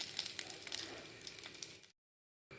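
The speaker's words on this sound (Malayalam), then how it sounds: "പച്ചടിയിലേക്ക് വറവ് ചേർത്ത് കൊടുക്കാം." Hot oil tempering with curry leaves hits pachadi, a bright steady sizzle with little crackling pops that fades and cuts to silence before faint sound returns.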